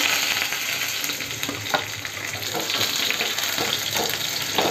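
Crushed garlic cloves and a pinch of cumin fry in hot oil in a pan for spiced cabbage, a loud, steady crackling sizzle with faint stirring knocks and no talking.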